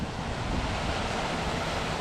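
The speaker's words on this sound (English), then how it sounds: "When you see a cool scene like that with a little waterfall" A small waterfall pours beside old dry stonework laid without mortar, a steady close broadband rush of falling water that holds even and unbroken throughout, with no voices over it.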